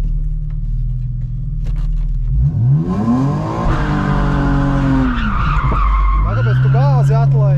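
A BMW E46 doing donuts: a loud engine revs up and down beneath long, close tire squeals that rise and fall as the car slides.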